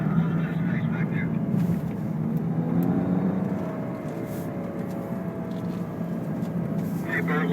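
A BMW engine hums steadily and rises as it accelerates on a driving course, with a person talking over the motor noise throughout.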